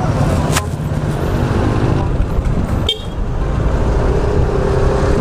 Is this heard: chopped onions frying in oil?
no